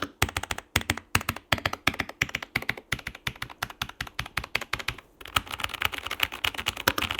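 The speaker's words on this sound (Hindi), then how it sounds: "गेट्रॉन स्विचेस ना ज्यादा लाउड है ना ज्यादा सॉफ्ट है, मीडियम साउंड हमें मिलती है।" Rapid typing on a keydous NJ98 mechanical keyboard fitted with Gateron switches, a steady stream of close, crisp medium-loud key clacks that continues without pause, shifting to a denser patter near the end.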